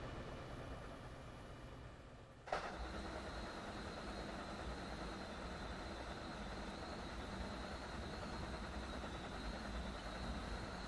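In Train Sim World 3, an Amtrak Acela on the Northeast Corridor between Boston and Providence runs with a steady, full-bodied rumble and faint whine. A sharp clunk near the start gives way to continuous running noise without talk.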